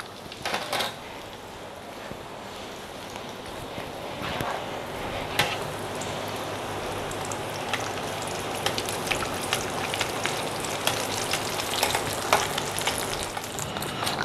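Steady crackling sizzle of a scotch egg frying in hot oil, continuous and close, with a few sharper pops and no talking.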